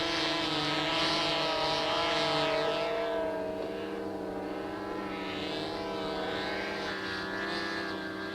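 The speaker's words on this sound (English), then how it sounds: "Flying rock steady, the plane eases in on the group." A propeller plane drones steadily overhead, its engine tone rising and shifting slightly as it passes, loud and continuous with no talking.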